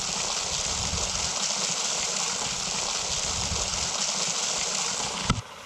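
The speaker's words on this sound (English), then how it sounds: "Okay, we've made it down to the waterfall." Waterfall at Paddy Falls: a steady, loud broadband rush of falling water, constant throughout with a brief knock near the end.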